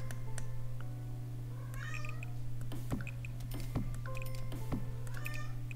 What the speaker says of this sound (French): Et elle miaule.